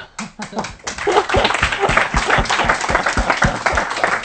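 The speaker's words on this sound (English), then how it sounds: "I want to applaud you." Audience applause after a book talk, beginning with a few scattered claps and building quickly into dense, loud clapping from a crowd that holds steady.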